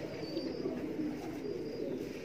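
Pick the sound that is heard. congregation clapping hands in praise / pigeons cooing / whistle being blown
pigeons cooing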